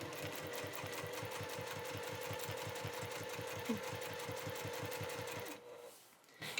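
A sewing machine top-stitches a line along the upper edge of a bag, running at a steady rapid needle rhythm close by for several seconds before slowing and stopping near the end.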